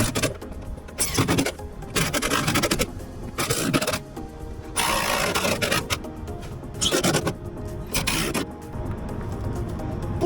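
Screws are tightened down on a motor during a vehicle upgrade: repeated rough, grinding bursts of a few seconds each, close and fairly loud, separated by short pauses.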